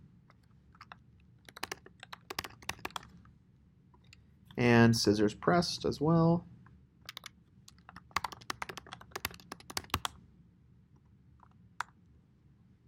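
Keys on a computer keyboard clatter in quick, uneven bursts of typing, with someone speaking briefly partway through before the clicking resumes.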